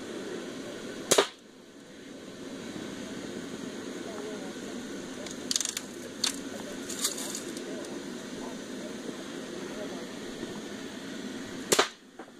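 A BB gun fires twice, two sharp snapping pops about ten seconds apart, with faint background noise and a few small clicks between shots.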